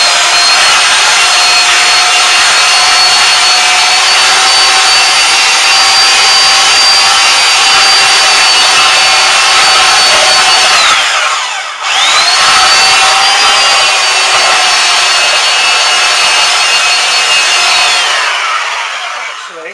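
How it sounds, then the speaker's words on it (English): Belt sander running steadily across the wooden lid of a pirate chest, a loud continuous whirring grind with a brief dip near the middle before it picks up again, fading slightly at the end. "I've got a belt sander and my goggles, give that a go."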